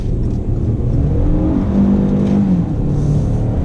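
A 2019 Hyundai Tucson Night Edition accelerates out of a turn, its engine note rising steadily and loudly with a climbing harmonic whine over road rumble, close and continuous with no talking.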